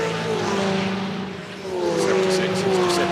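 Porsche 911 GT4 race cars lapping the Red Bull Ring in a GT4 European Series race, engine note rising and falling as a car accelerates out of a corner, loud and continuous under commentary.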